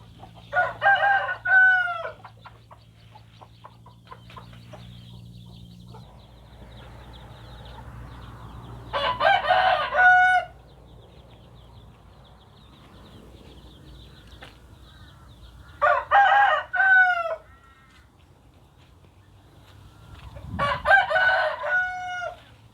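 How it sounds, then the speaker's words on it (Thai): Roosters crow loudly four times in long, spaced calls at a small rural backyard fighting-cock coop, with chickens clucking softly in between against a quiet outdoor background. "นี่เจ้าของไม่อยู่ตื่นหน่อยนะครับ ไก่"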